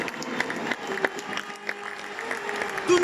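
Crowd applause rises at an outdoor living nativity performance in Provins in 2019, with clapping rippling steadily from a mid-distance audience and a voice faintly mixed in beneath it.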